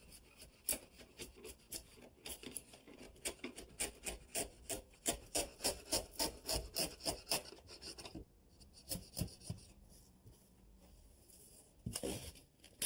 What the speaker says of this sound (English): Now I just use my chisel to remove all the excess hot glue and epoxy.